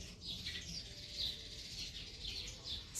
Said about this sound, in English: The birds outside are going absolutely bonkers right now.